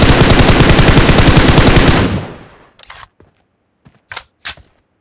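A sustained burst of rapid automatic gunfire in PUBG Mobile, loud and evenly rhythmic for about two seconds before cutting off, followed by a few short, sharp isolated shots in near silence.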